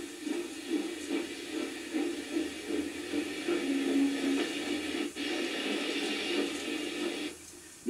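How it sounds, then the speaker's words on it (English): A heavy goods train of the County Donegal Railways pulls into Strabane station, arriving from Letterkenny, giving a steady low rumble and rolling clatter that holds at moderate level with no speech. "A heavy goods train from Letterkenny arrives at Strabane."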